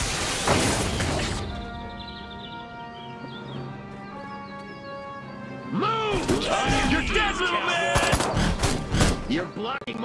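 Gunfire and crashing impacts in the Destroy All Humans! Remake video game: a loud burst at the start, a quieter stretch, then a dense run of shots and smashes near the end. Voices speak among the noise.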